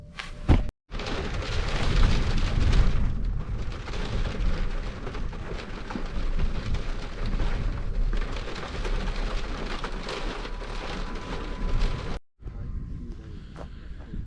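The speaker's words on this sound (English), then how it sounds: "the rain came down in the night" Rain falls at night on a camper van, a dense steady patter drumming on the roof for most of the stretch, cut by brief silent gaps near the start and end, with a quieter patter at the close.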